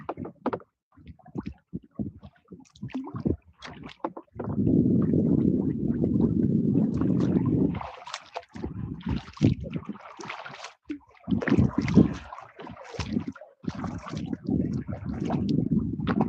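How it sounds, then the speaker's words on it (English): Wind gusts across an Adirondack lake during a kayak trip, a low, rumbling buffet that swells for several seconds and then breaks into scattered knocks and splashy rustles. "now we're starting to get a little wind here"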